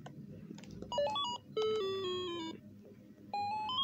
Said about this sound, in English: Oh, so that's the game over sound you heard.